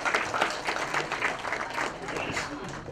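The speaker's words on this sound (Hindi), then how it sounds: "यार जोरदार ताली हो जाए एक बारी," Audience applause at a special film screening, a moderate, steady patter of clapping from a mid-sized crowd, with voices talking over it.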